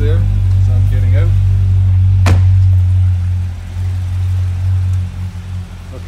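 A 2009 Corvette Z06 in Jetstream Blue idles with a deep, steady burble close by, a sharp clunk cutting through midway, while someone talks over it.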